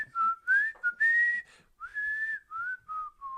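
A person whistles a melody, a clear, close, solo tune of sliding pitched notes with short breaks between phrases, no talking over it.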